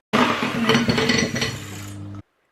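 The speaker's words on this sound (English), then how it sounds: "add 1 tablespoon of allulose sugar and whisk again till the egg whites reach the soft peak stage" Egg whites whisked with a tablespoon of allulose sugar in a bowl, a close, steady run of rapid metallic clinks and rattles lasting about two seconds before stopping abruptly, with no voices.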